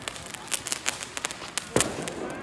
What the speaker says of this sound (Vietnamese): Ở đây bây giờ này đã bắn pháo khủng khiếp lắm anh em ạ.